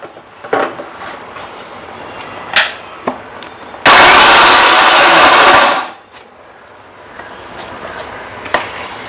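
A loud motorized burst from a mixer grinder grinding spices runs for about two seconds and then winds down, with scattered clicks and knocks before and after.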